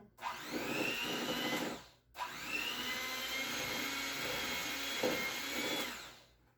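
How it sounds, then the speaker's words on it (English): An electric hand mixer fitted with a single beater whirs through frosting in two loud, close bursts of steady motor whine, separated by a short stop. "when I make my frosting and use the electric mixer, I put on 1 beater, just 1"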